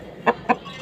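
A hen gives two quick clucks close by, over a faint steady background.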